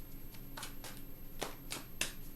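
Tarot cards are shuffled in several quick, soft riffling bursts at close range, each a brief papery flutter separated by short pauses in a quiet room.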